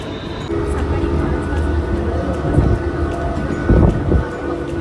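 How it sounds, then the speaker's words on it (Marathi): A Mumbai local train pulls into a crowded station at 5 a.m. with a steady rumbling roar and wind buffeting the microphone. Heavier rolling swells come through near the end. "आपली ट्रेन आलेली आहे बरोबर"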